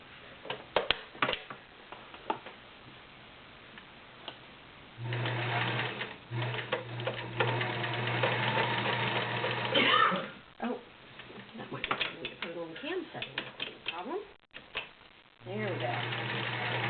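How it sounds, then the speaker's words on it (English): A vintage Kenmore model 1753 cam sewing machine runs a stretch pattern in bursts of rapid, steady mechanical whirring and ticking, close and fairly loud, stopping and restarting, with a person talking between runs. "put in a stretch cam. Show you how it does a stretch pattern."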